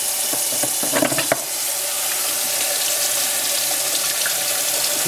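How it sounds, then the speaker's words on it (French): Cold water running from a tap over a part from an engine cooling system, a steady close splashing hiss with a few clattering knocks early on, with no talk. "Là, je vais faire couler de l'eau froide dessus."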